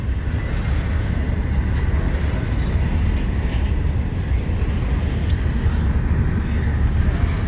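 A CSX intermodal freight train rolls past nearby, a dense continuous rumble of wheels and cars with steady loud roar and faint squeals throughout.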